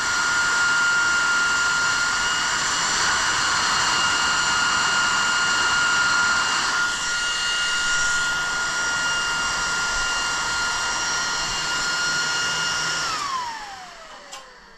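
A Delta cooling fan from a DataDirectNetworks SS8460 storage enclosure spins with a loud, steady high-pitched whine and rushing air. The tone shifts slightly partway through, then winds down sharply near the end as the fan slows and stops.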